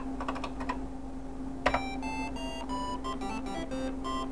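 Keys on a TI-99 home computer keyboard are tapped in a short burst of clicks and then a few separated presses, followed by a bright beeping electronic tune. No one speaks.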